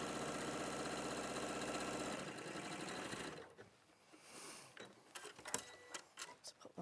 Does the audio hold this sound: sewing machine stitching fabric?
yes